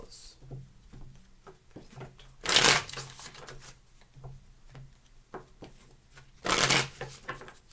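Tarot cards shuffled by hand in two loud bursts, each a rapid riffling flutter lasting about half a second, separated by quieter handling and soft rustles of the deck.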